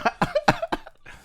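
A person coughs four times in quick succession, close and sharp, followed by a softer trailing breath.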